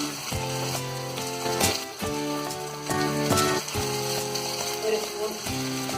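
Pre-cooked beef, Kerala style, sizzling and frying in a pan, a steady close crackle with repeated louder bursts as pieces are stirred, no one speaking.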